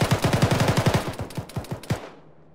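Heavy DShK machine gun firing in Arma, a rapid burst of loud, booming shots that slows into separated rounds over about two seconds before cutting off, no talk.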